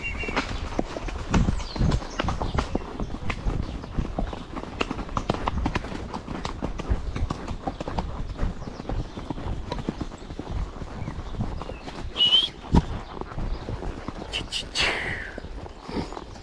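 A ridden mare trotting, rapid rhythmic hoof clip-clops close by, continuous and uneven in strength, with brief bits of voice and a high squeak near the end.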